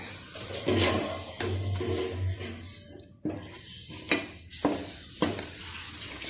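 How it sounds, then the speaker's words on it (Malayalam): Stingray curry sizzles in a hot pan while a utensil scrapes and stirs it in repeated strokes, close and fairly loud. "ഇനി ഇളക്കി പാകമാക്കാം."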